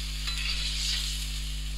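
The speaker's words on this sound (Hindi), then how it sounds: "हाई फ्लेम पे ताकि इसका पानी बिल्कुल ड्राई हो जाए और अच्छी तरह मिक्स हो जाए सब चीज़ें" Chicken makhni karahi with kasuri methi and lemon juice being stirred over a high flame, giving a close, continuous sizzle and gentle scraping with no talk.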